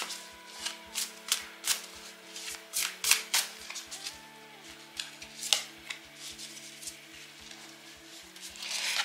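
A deck of tarot cards is shuffled before a reading. Close, crisp, rhythmic card snaps and flutters repeat in quick succession, with soft slides between the taps.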